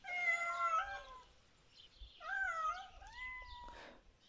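Several orange cats meow outdoors in long, wavering, drawn-out cries, two main calls close by with a fainter overlapping mew, and no speech.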